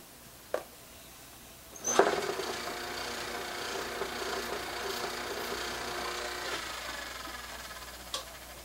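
A leather-hard clay bowl is trimmed on a spinning potter's wheel fitted with a Giffin Grip. After a knock, a steady whirring scrape with a soft motor hum runs for several seconds before a final tap. It is fairly close and nobody speaks.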